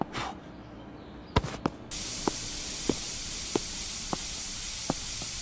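After a few clicks, a spray can in the game Internet Simulator 2 lets out a steady, loud hiss lasting several seconds, with faint regular ticks over it.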